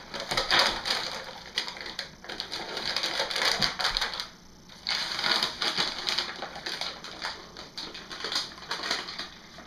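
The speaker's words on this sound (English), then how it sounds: "My paper has to come off though." Paper wrapping being peeled and torn away from a freshly cut almond-scented soap loaf, a continuous close crinkling and tearing rustle with a brief lull midway, no voices.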